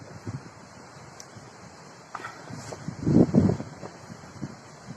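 Gusty wind buffets the microphone, rising into a stronger rush near the end over a faint steady background hiss.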